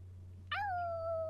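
A kitten in The Sims 4: Cats and Dogs gives a single clear, drawn-out meow that starts high and slides down, standing alone over a steady low hum.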